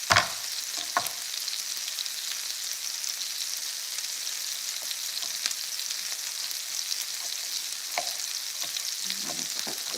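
Spaghetti sauce of jarred and fresh tomato stirred in a hot pan, a steady close sizzle and frying hiss with occasional scraping clicks of the spoon, no voices.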